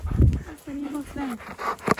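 A chatty husky in fresh snow snorts, pants and makes whiny, talkative vocal sounds, close and fairly loud, with a human voice mixed in around it.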